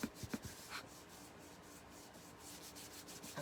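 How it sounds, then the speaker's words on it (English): Quiet, steady rubbing and scuffing while buffing a star cutout, with a few light taps near the start and a soft, continuous abrasive texture throughout, close and faint. "Okay, buffing."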